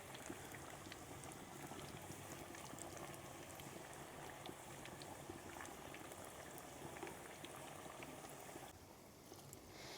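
Katori chaat cups fry in cooking oil with a steady, dense bubbling sizzle that carries on evenly throughout, close and fairly quiet, with no talking.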